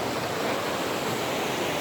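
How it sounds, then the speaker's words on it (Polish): A small waterfall on a river in Zakopane gives a steady, dense rush of falling water, close and constant throughout with no voices. "tutaj taki wodospadzik fajny"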